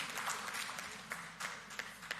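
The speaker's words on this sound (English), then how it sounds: "Give her another round of applause" A press-conference audience applauds a guest, with faint, scattered hand claps at a distance in a quiet room.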